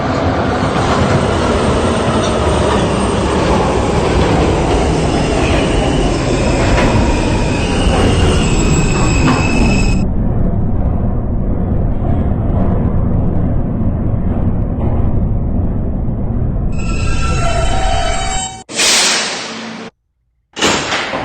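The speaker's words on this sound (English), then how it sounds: "This is a Union Turnpike-bound D train via the E line." A New York subway R160B D train runs loudly toward Union Turnpike via the E line. Its wheels squeal and rumble for about ten seconds, then a softer rolling follows, and a brief burst and a short dropout come near the end.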